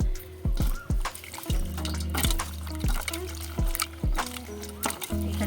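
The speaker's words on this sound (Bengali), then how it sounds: "আমি এখানে আমগুলো ধুয়ে নিচ্ছি" Fresh raw mangoes being washed by hand in water, with repeated loud sloshing and splashing in an uneven rhythm, close up, with no talk over it.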